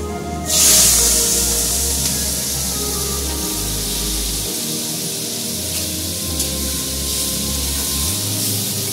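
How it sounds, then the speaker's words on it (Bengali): Prawns hiss and sizzle in hot oil seasoned with salt and turmeric, opening with a loud spray-like burst as they hit the pan, then settling into a steady, close frying hiss. "তেলের মধ্যে আমি নুন আর হলুদ দিয়ে দিলাম। এবার আমি মাছগুলো ছেড়ে দেব।"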